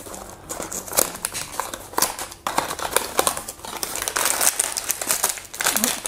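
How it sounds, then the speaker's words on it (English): Crinkling and tearing of a blind box package's wrapping and cardboard as it is worked open, steady close rustling with sharper crackles and rips, no talking. "Oh, this box does not want to open."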